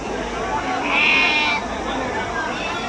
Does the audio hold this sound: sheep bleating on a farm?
yes